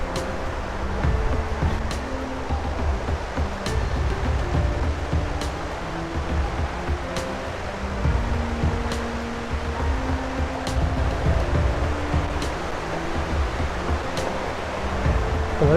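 Water rushes steadily through a rainforest, a constant broadband roar like a stream or falls filling the whole scene, with faint ticking clicks recurring at regular intervals and no talk.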